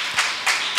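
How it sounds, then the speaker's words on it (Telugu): A church congregation claps in unison, three sharp, evenly spaced hand claps ringing out close and clear, with no talking. "దగ్గరగా చప్పట్లు కొట్టు దేవుని నామం మహిమపరుద్దాం"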